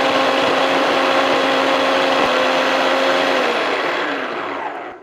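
Motorized vegetable chopper cutting onion and cabbage: a steady loud whirring motor hum with a constant tone, running alone and then slowing and fading as it winds down.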